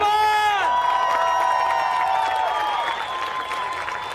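Danish fans cheering and shouting on a beach as a stand-up paddle men's final runs to a sprint finish, a loud continuous crowd roar with whoops and a sustained tonal horn-like line running throughout.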